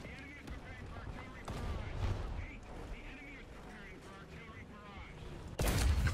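Video game gunfire in an urban combat firefight, a slow-firing weapon booming in bursts under near-constant talk, with a loud blast at the end.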